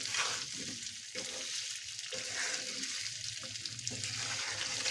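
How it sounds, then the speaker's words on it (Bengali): Olive pickle with sugar being stirred in a pan, a steady soft sizzle with scraping strokes running continuously through the whole stretch, close and moderately loud. "নেড়ে চেড়ে নিচ্ছি।"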